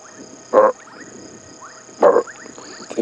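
Grey tree frogs calling at dusk in a South African game reserve: two short, fairly loud croaking bursts about one and a half seconds apart, close by, over a bed of quieter insect and frog chorus.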